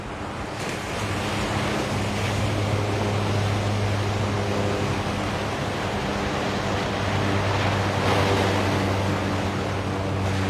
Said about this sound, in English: these waves are coming up over the wall here